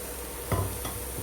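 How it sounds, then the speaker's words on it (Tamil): Paneer pieces frying in a little oil on a dosa tawa give a soft, steady sizzle with a brief scrape or stir around the middle, close and fairly quiet, with no talk. "ஒரு தோசைக்கல்லில் இந்த பன்னீரை கட் பண்ணி கொஞ்சமாக எண்ணெய் ஊற்றி நம்ம ஃப்ரை பண்ணிக்க போகிறோம்"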